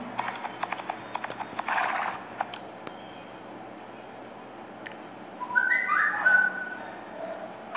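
Horse hooves clip-clopping in the Old West Gunfighter video game, a steady, fairly quiet patter of beats with a brief whistle-like tone near the end; no talking.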